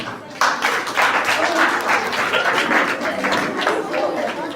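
An audience at an inter-house school quiz and debate applauds the first speakers on the podium, a dense wash of clapping rising abruptly and holding loud and close for several seconds.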